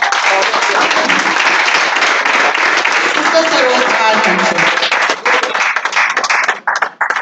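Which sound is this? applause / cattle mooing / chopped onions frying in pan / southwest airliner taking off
applause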